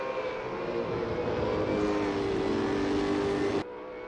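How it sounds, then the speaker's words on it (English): V8 Supercars race cars at Albert Park in Assetto Corsa thunder past in a dense, continuous engine roar that holds steady and loud before cutting off abruptly near the end. "the first few cars come around in the final corner now for their first lap"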